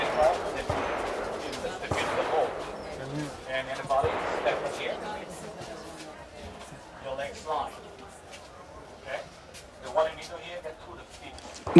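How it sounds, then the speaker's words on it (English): Distant bursts of gunfire and rapid machine-gun rattles crackle in the background at a tunnel site in Vietnam while someone talks over them, sharp cracks punctuating the second half. "What you hear in the background is the sound of gunshots and machine gun fire."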